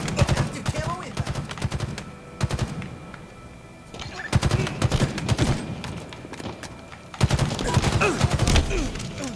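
Automatic weapon fire in the video game Halo Infinite multiplayer, several bursts of rapid close gunshots separated by quieter stretches, with a player talking at times.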